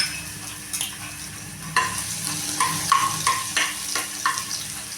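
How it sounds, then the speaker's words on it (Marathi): Garlic dropped into hot oil, a steady frying hiss that jumps louder midway, then repeated crackling bursts and pops, close and clear without speech. "तेल गरम झालंय, याच्यामध्ये मी लसूण सोडते"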